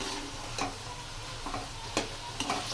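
Onion, tomato and green chili frying in a pan, with a soft, steady sizzle and a few light spoon taps while being stirred, fairly quiet and close.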